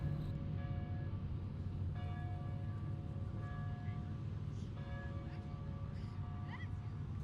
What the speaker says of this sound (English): Those church bells in the background are coming from St. Louis Cathedral in Jackson Square